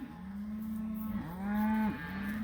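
A cow on a farm lets out a long, loud, close moo that rises and dips in pitch, with a second bellow following straight on, and no talking.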